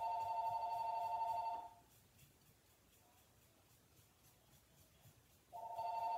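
A landline telephone rings in a room, with two bursts of electronic ringing at the start and end separated by a quiet gap.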